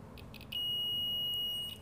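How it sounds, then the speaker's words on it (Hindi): A digital multimeter set to continuity gives a single steady electronic beep lasting over a second, close and clear, preceded by faint short chirps, while checking wiring on a Bajaj Discover 125 cc motorcycle. "इसको मैं कंटिन्यूटी में सेट करूँगा बीप को आवाज़ में"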